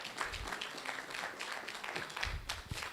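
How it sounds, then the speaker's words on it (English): Audience applause for a panel team at a fintech conference, a moderate spread of clapping across a room, fairly faint and steady throughout with a little murmur underneath. "I think they deserve a good round of applause"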